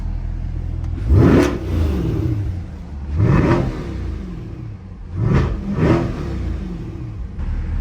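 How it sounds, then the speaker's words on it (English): A Chevrolet Corvette C8 engine, just cold-started, is revved three times in loud, close swells, each rising and falling over a steady idle rumble. "Can't do nothing without a cold start rev."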